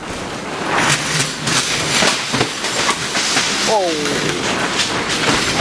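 Strong wind gusts roar steadily outdoors, a constant broadband rush that swells and buffets throughout, with a brief rising tonal whine near the end and a voice exclaiming once.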